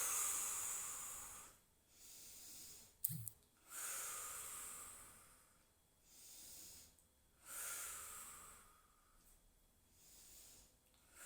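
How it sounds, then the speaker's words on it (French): A person breathes slowly in and out during an exercise class, soft airy breaths repeating in a steady cycle of long inhales and exhales with short quiet gaps, faint and close, with one brief knock in the middle. "On prend une inspiration, on expire."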